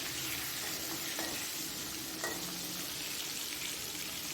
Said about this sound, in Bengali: তাই সর্ষের তেলে মাছগুলো ভেজে নিচ্ছি